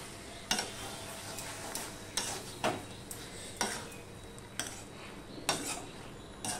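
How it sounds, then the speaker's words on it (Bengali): A spoon stirs a shrimp and vegetable curry with fresh coriander in a pan over a low flame, making repeated scraping clanks about once a second against a soft continuous sizzle. "দিয়ে সম্পূর্ণটা ভালো করে আমি মিশিয়ে নেব"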